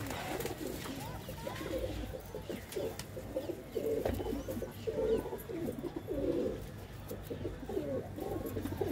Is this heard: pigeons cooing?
yes